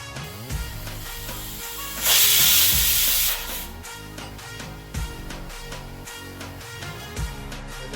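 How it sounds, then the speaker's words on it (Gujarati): A pressure cooker boiling potatoes in salted water lets out one loud burst of steam hiss lasting just over a second, set against steady background music. "હવે આપણે કુકર ઢાંકીને એને 3 વિસલ થવા દઈશું।"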